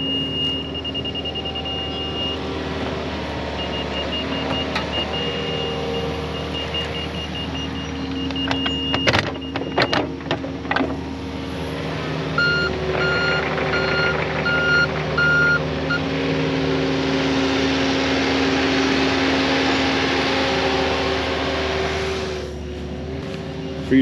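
A truck's reversing alarm beeps in a regular repeating pattern over a rumbling diesel engine on a job site where septic trenches are being backfilled, with clanks of machinery midway.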